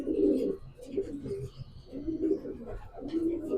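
Pigeons kept for breeding coo in a loft, repeated soft low rolling calls close by, with a faint chirp or two mixed in.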